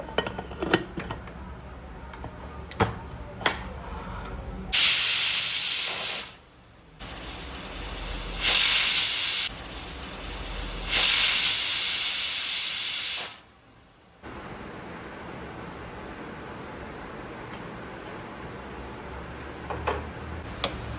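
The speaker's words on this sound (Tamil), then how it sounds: "ஒரு மூணு விசில் வைக்கணும்" A pressure cooker cooking sugarcane-juice pongal vents steam in loud, sustained hissing bursts that start and stop over and over, with quieter background noise between the blasts.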